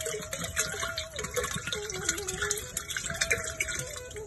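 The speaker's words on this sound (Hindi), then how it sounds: "इसमें थोड़ा पानी डाल के और डाल देंगे" Water pours and gushes steadily into a homemade organic compost mixture, a continuous splashing trickle close by, with a faint voice now and then.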